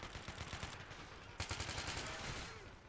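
Heavy gunfire crackles through a police tactical video game street defense, rapid overlapping bursts and automatic fire forming a dense, continuous barrage with a sharp louder volley midway, with faint talk underneath.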